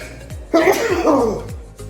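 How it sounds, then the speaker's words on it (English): One close, abrupt sneeze-like burst with a short breathy lead-in, heard over a quiet room. "I thought I was going to sneeze."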